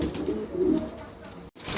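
A pair of Lakha pigeons coo softly, with low repeated throaty calls close by and a brief break near the end.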